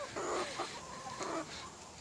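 A few backyard chickens give soft, repeated clucks at a distance over steady background noise, quiet and intermittent.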